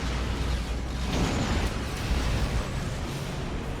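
A big explosion erupts amid ongoing Star Trek Online combat, a brighter burst flaring about a second in over a constant loud, rumbling din of blasts.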